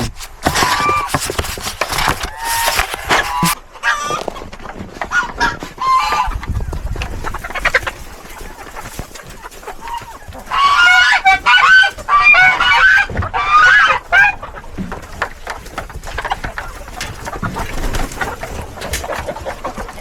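Backyard chickens in a Montana winter near roosting time, loud nearby clucks and squawks in bursts, with a busy stretch of calls in the middle and quieter gaps between.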